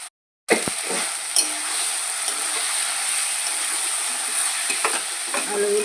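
Potatoes dropped into hot oil and cooked spice masala for an egg curry sizzle and fry steadily, with a few brief clinks and stirring scrapes over a continuous hiss, close up.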